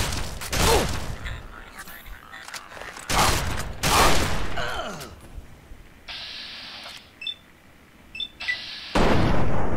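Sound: gunfire in the video game Fallout 3

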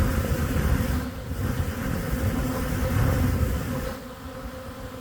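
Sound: swarm of bees flying around a house

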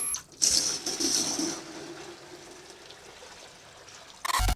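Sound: water poured from a clay pot into a vessel

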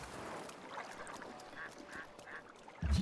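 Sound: ducks quacking in video game Breath of the Wild

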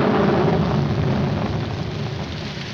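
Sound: rain falling in a film scene

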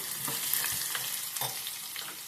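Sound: garlic frying in tempering oil

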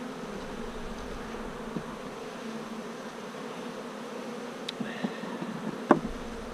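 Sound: honey bees buzzing in an open hive colony

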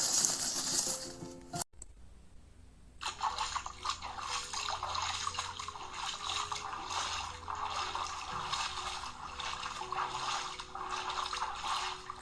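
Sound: splashing in a puddle

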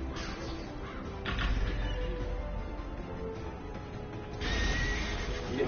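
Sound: horse whinny in a video game

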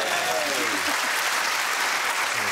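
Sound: lukewarm round of applause from studio audience

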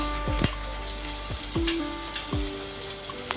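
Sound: tomatoes and spices frying in pan

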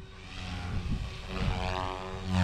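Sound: RC helicopter flying with iKon/Brain flybarless controller

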